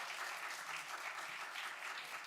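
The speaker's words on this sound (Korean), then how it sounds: "큰 박수로 환영해주세요." An audience in a church Sunday service applauds Sunday school award recipients, a dense, even wash of many hands clapping, somewhat distant and fairly quiet, steady throughout without voices.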